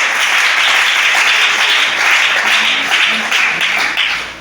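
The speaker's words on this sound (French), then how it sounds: "Acclamez ça" A congregation applauding during a church service, a sustained dense clapping that stays loud and fills the room before tapering slightly at the end.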